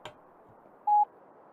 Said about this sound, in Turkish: Sinyal sesinden sonra telesekretere mesajınızı bırakabilirsiniz.